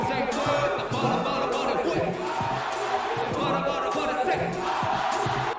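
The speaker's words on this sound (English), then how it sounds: "you got that crowd going crazy" Crowd at a Korean rap competition stage show reacting to a hip-hop performance: loud, continuous shouting and cheering of many voices over thumping music, with men chatting closely on top of the din.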